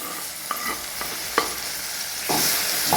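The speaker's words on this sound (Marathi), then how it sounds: "कांदा छान भाजलाय, त्याच्यामध्ये आपण टोमॅटो टाकून घेऊया।" Tomatoes going into browned onions frying in a pan, a steady sizzle punctuated by a few sharp spatula clacks, then a louder hiss as the tomatoes hit the oil.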